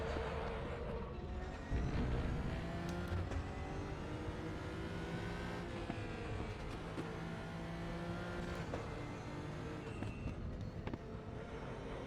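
In the RaceRoom VR game at the Nürburgring Nordschleife, a racing car engine revs and shifts continuously while a ghost car closes in to overtake, the engine note rising and falling steadily.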